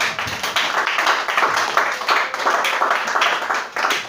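A church congregation claps in quick rhythmic unison during a worship service, loud and close, with a faint murmur of voices underneath.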